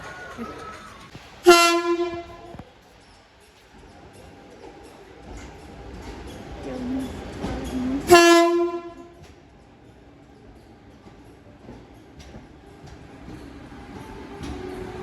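A Vande Bharat train at Rajkot Junction sounds two loud horn blasts: a short one early, then another about six seconds later, each ringing briefly over a low rumble of station and rail noise.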